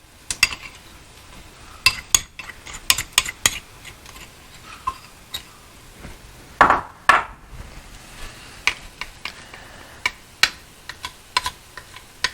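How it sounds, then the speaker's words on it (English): Curry paste is stirred in a pan, giving scattered light clinks and scrapes of a utensil against the metal over a quiet sizzle, with no one speaking. "as it starts to cook, we're going to keep stirring"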